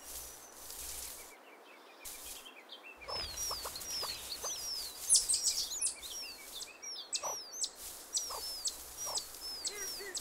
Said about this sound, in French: La mère poule a facilement repoussé l'intrus. Elle rassure sa marmaille.